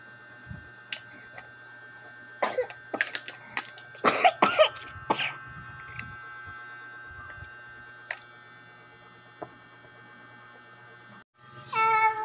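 A young child, sick with a cold, coughs in a few short clustered bursts indoors in a bedroom, with a steady background hum and a louder jumble of sound at the end.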